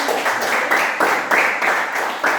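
Classroom children clapping together in a school lesson, loud bursts of rhythmic group claps arriving in regular pulses about every third of a second, close and unaccompanied.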